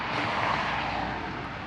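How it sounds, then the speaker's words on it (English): A rebuilt Chevelle 402 V8 after an overhaul, running continuously with a steady, dense, loud roar and no talk over it. "Engine sounds pretty good there."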